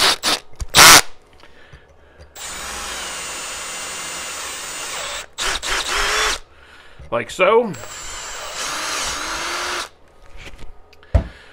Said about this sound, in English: drill out